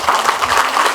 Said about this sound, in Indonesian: tapi tepuk tangan untuk Mas.